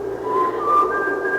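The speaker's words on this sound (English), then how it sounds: "then I heard someone whistling" A person whistles a short, clear tune for a radio drama sound effect, a few thin, steady pitched notes that rise in steps and sit alone over quiet room tone.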